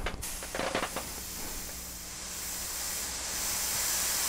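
Iwata HP-CS airbrush spraying paint: a few short, sputtering bursts of air, then a continuous close hiss that grows slightly louder, with no voices.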